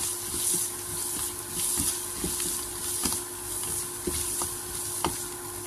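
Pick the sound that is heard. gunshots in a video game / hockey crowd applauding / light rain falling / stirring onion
stirring onion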